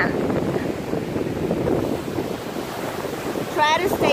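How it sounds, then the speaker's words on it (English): Ocean waves roll onto a beach in a steady, broad hiss of surf mixed with wind noise on the microphone, with a brief bird-like chirp near the end and no talking over it. "I was telling you to just hear the sound of the ocean."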